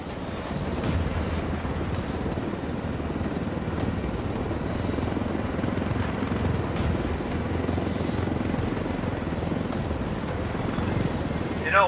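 A helicopter flies in Ghost Recon Wildlands, its rotor chop and engine drone steady and close throughout, with faint voices underneath.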